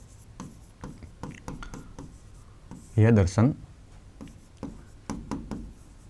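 Marker or chalk writing on a board during a Hindi philosophy lecture: a steady run of short, scratchy strokes, close and fairly quiet, with a brief louder burst of voice partway through.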